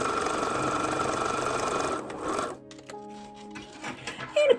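A sewing machine stitches a quilted wallet with a fast, steady mechanical whir for about two seconds, then stops, leaving faint handling clicks and rustles.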